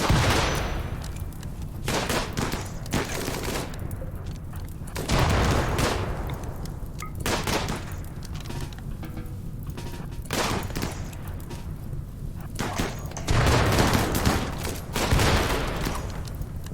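Gunfire from a RimWorld colony battle: repeated bursts of shots and volleys crackle throughout, dense and fairly loud, with heavier clusters of blasts recurring every few seconds and no talking.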